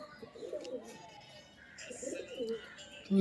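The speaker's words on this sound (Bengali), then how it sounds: "দারুণ পায়রা।" A high flyer pigeon coos softly at close range, two or three low murmuring phrases in a quiet space, with faint chirps in the background.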